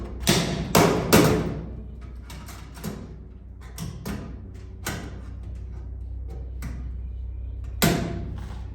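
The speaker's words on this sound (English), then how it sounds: "Hit the box from the outside, pull the KO out from the inside" Knockout blank being hammered out of a metal electrical box: a series of sharp metallic knocks and thuds, loudest in a quick opening cluster, then spaced single hits at moderate distance with no talking.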